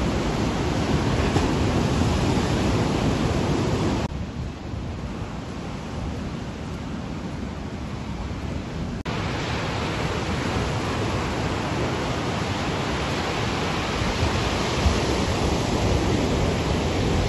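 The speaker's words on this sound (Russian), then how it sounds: "Сильнейшие волны." Strong stormy sea waves crash and surge along the Odessa coast on the Black Sea after a morning of rain, a loud continuous roar of surf with a slightly quieter spell midway, no talking.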